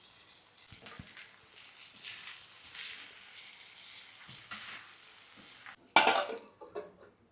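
Pre-cooked prawns go into a pan with onion and ginger-garlic paste, bringing soft sizzling and light clinks of utensils against the pan, then a sharper metallic scrape and clatter near the end.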